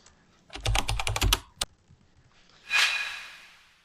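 Rapid burst of computer keyboard typing, close and fairly loud, followed by a single sharp key tap and then a brief softer rustle or clack, with no talking.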